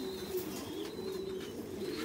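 Pigeons coo in a loft of American Giant pigeons, with low, steady, rolling coos that run continuously and sit close, along with a few faint higher chirps above.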